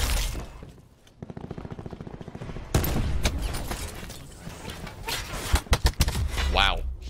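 Gunfire in Call of Duty Black Ops 4: a quick rattling burst of shots, then louder sharp cracks and impacts scattered through a busy firefight, ending with several punchy close shots.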